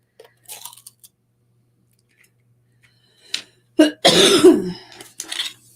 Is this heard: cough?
yes